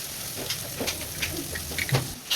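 Curry leaves, green chillies and dried red chillies sautéing with beef for beef sukka in a pan, giving a steady soft sizzle and hiss with faint scattered crackles and stirring taps, close and alone.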